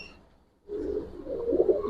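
A Giribaz pigeon coos close by, a soft low throaty murmur that starts after a brief pause and swells in gentle pulses.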